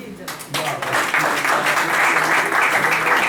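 A poetry gathering's audience bursts into dense, sustained applause for the evening's host, clapping that swells within the first second and holds steady, with some voices mixed in underneath.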